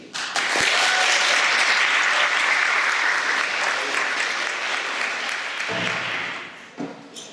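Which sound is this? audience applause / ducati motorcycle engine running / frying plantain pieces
audience applause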